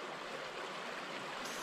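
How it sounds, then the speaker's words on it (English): A creek's running water gives a steady, close rushing babble that fills the short stretch evenly, with no voices. "So we're at a creek."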